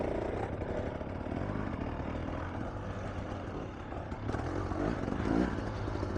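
A 2025 Husqvarna TX300 two-stroke dirt bike runs continuously while being ridden on local trails, its engine droning steadily with a brief louder rise near the end, no talk over it.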